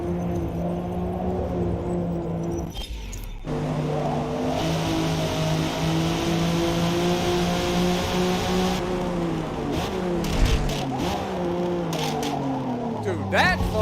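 A race car in the Forza Motorsport racing game slides through a corner, its engine droning loud and steady with shifting pitch and brief tire noise, while a voice talks over it.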